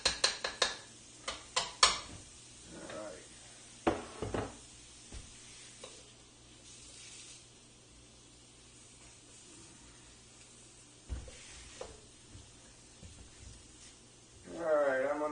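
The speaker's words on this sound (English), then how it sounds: "frying these up at the moment here" Scattered sizzling and clattering as diced ham and vegetables fry in a pan on the stove, with brief scraping stirs, quieter stretches of hissing, and a short voice near the end.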